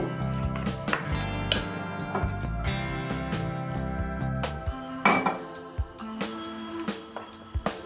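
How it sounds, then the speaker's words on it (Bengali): Flour and water are stirred by hand into a medium-thick batter in a bowl for dhokar dalna, giving repeated clinks and scrapes of a utensil against the bowl over a steady tonal background. "অল্প অল্প করে জল দিয়ে ময়দাটাকে গুলে নেব"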